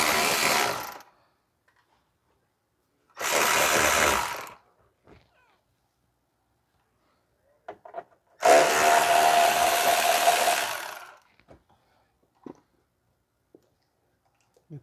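A power tool whirs in three loud, close bursts, backing out 10 mm self-tapping bolts from a cover under a 2017 Toyota Corolla 1.8 during a CVT transmission service, with small clicks and clatter in the pauses between.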